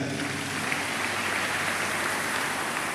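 A church congregation applauds in acclaim of the Lord, a dense, steady wash of clapping filling the room at even loudness from start to end, with no talking.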